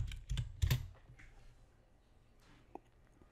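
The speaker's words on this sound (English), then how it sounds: "I'm going to type in one more thing." Keys clatter on a computer keyboard in a short burst of close, quick typing, dense at first and then thinning out to scattered taps with a single later click.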